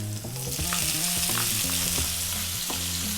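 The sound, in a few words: garlic, ginger and onion frying in oil on high heat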